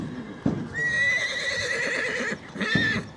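A horse gives a loud, close whinny that holds for nearly two seconds before a second shorter neigh, with a few hoof thumps at equestrian training grounds.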